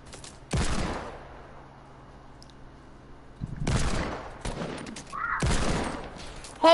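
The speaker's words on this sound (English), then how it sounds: "So I can shoot him. With a hand cannon." Hand cannon shots in a multiplayer shooter video game: three sharp, loud gunshot blasts spaced a couple of seconds apart, each with a short decaying tail over quiet game ambience.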